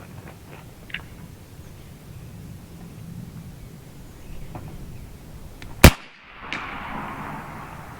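A single sharp crack from a powerful .50 caliber air rifle at an outdoor range, a brief loud report followed by a short hissing tail, set against quiet open-air background noise.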